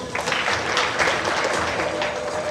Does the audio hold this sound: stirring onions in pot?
no